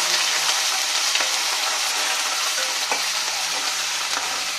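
Green chillies and curry leaves frying in hot oil give a loud, steady, close sizzle that holds unbroken throughout, with faint stirring scrapes now and then.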